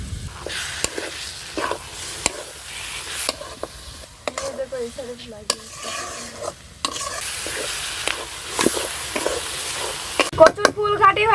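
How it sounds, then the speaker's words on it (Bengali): Taro flowers stirred and frying in a pan with chopped onion and chilli, a steady sizzle broken by repeated scraping stir strokes of a utensil, close and fairly loud throughout. "কচুর ফুল ঘাটি হয়ে গেছে"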